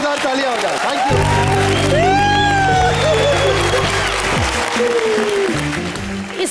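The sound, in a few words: audience applause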